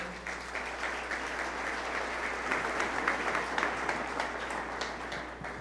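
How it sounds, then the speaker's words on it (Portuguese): An audience at a pastors' and leaders' mentoring event claps steadily for a pastor from Brusque, Santa Catarina, with dense, even applause throughout and no talk on top. "Um forte aplauso, pessoal de Santa Catarina"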